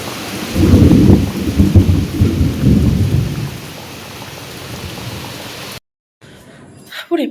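A torrential rainstorm pours with a loud rolling thunderclap near the beginning. The steady roar of rain continues until the sound abruptly cuts out, then returns briefly and faintly at the end.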